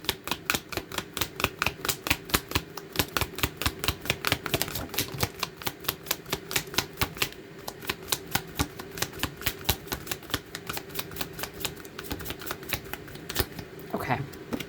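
A deck of tarot cards being shuffled by hand, rapid rhythmic riffling clicks running continuously and close for the whole stretch, with only a brief pause partway through.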